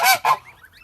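Two loud, close goose honks in quick succession, followed by faint calls and quiet background.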